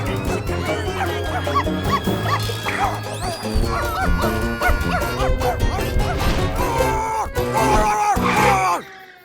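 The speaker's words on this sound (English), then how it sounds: "Was that your dog barking?" A cartoon dog barks and yips excitedly in the middle of a noisy animated chase, with whimpering and groaning voices and busy music mixed in. The barking is loud and close and keeps going for several seconds.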